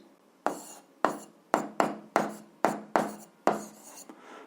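Chalk or a marker writing out an algebra equation system on a board, about eight crisp, separate taps and short scrapes in an uneven rhythm, close and clear with no talking.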